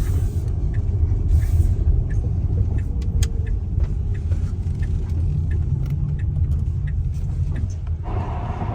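A Tesla Model X towing a trailer cruises along a road, giving a steady low rumble of tyres and wind noise inside the car with small clicks and ticks.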